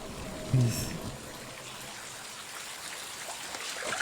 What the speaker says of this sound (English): Why are we walking in the rain in the dark?